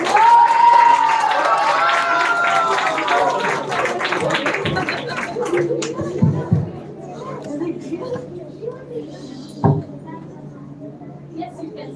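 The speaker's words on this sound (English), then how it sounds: "Can we give her a big round of applause, please?" Applause and cheering for a young performer at a children's literature festival school round, loud at first with a vocal whoop, then thinning into scattered claps and crowd chatter that fade to near quiet with a few isolated knocks.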